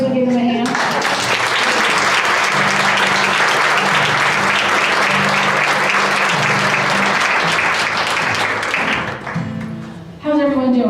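Audience applause at a live evening intuitive class with audience readings: a sustained, loud wash of many hands clapping that fills the room, dipping briefly near the end as a voice speaks over it.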